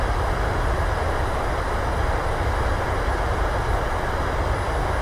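Thrust reversers of a Transavia airliner roaring during the landing roll at Innsbruck in Microsoft Flight Simulator: a loud, steady, dense rumble with a broad hiss that holds constant throughout, with no talking.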